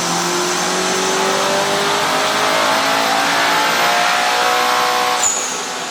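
A turbocharged 2022 Toyota GR86/Subaru BRZ engine runs hard on a dyno, a loud, sustained rising pull with climbing engine tones that holds steady for several seconds before easing off slightly at the end.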